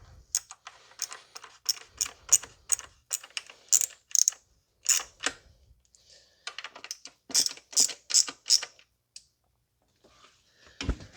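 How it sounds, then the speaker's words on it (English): A thumb wheel ratchet tool hand-tightens valve cover bolts on a 2019 Honda Civic 2.0, giving close, sharp clicking bursts in quick clusters separated by short pauses. "I have like a thumb wheel tool. So I'm just going to hand tighten each one."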